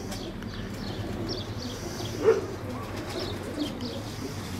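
Pigeons at a racing pigeon club in Perama give a soft coo, with one brief louder call midway, heard outdoors on a still day over steady low ambient noise.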